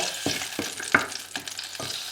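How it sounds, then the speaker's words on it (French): Oil sizzling in a hot frying pan while a julienne of vegetables is prepared for a savory salmon and shrimp mini cake, a quiet, crackling hiss with several short bursts as the pan is stirred. "Là ça grésille, donc c'est chaud."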